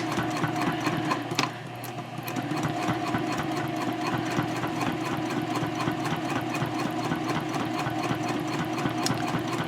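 A sewing machine stitches along the flap of a messenger handbag at stitch length 3.0, a steady, rapid, rhythmic whirring chatter running continuously and close, with a brief click early on.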